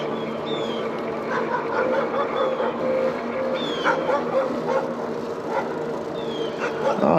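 Several dogs bark excitedly in quick, overlapping bursts, some yelps high-pitched, fairly close with a steady background hum, heard from a passing e-bike.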